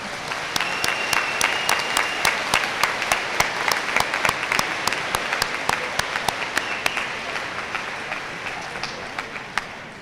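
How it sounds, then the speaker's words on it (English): A crowd at a senior awards ceremony claps in sustained applause, dense and steady with sharp individual claps standing out throughout, fairly close and loud. "Let's hear a big round of applause for this group"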